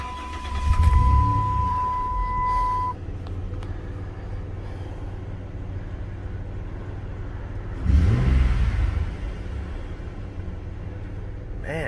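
A 2006 Dodge Ram 1500 quad cab pickup with a 3.7 Magnum V6 cranks and catches near the start, then settles into a steady idle, with a second brief surge of engine noise later on.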